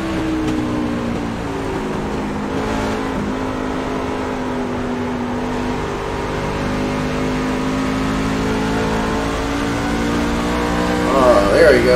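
A race car engine in the iRacing sim at Phoenix in a pickup truck cup race drones and rises steadily under throttle, a constant close hum with a commentator talking over it.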